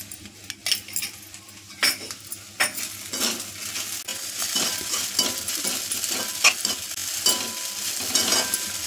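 Sabudana and potato are sautéed in a pan with sugar and rock salt, a soft sizzle punctuated by frequent irregular scrapes and clinks of a spoon against the pan.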